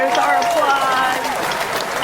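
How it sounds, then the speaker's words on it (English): A talk-show applause sound effect plays as a guest is welcomed, with steady clapping that runs under a speaking voice through the whole short stretch. "There's our applause."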